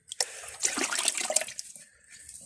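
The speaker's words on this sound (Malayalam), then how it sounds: "3 ലിറ്റർ ചാണക വെള്ളം ഒഴിച്ചിട്ടുണ്ട്" Cow dung water is poured onto a banana plant, splashing and gurgling in one close burst about two seconds long that trickles away at the end.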